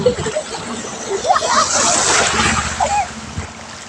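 Legs wade through knee-deep floodwater, sloshing and splattering in uneven bursts close by, while someone talks over the splashing.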